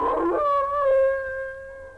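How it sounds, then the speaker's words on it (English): A single long, drawn-out howl of a hound baying, starting rough and settling into a steady mournful tone that slowly fades, heard alone and fairly close. "That was a hound baying at the moon."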